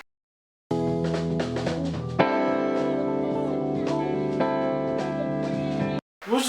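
Guitar sits in a dense mix alongside keyboards, without a transient shaper, so its picked attacks blur into a continuous bright wash that plays steadily for about five seconds.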